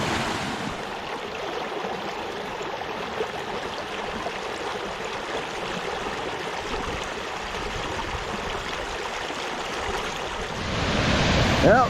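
Water rushes continuously at a waterfall on Choke Creek, a dense, steady roar with some wind noise on the microphone, swelling louder toward the end.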